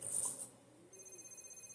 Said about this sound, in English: are we getting a phone call?